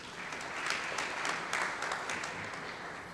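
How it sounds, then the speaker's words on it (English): Applause from an audience at a high-level forum, a moderately distant, steady wash of clapping lasting a few seconds. "Please, a round of applause."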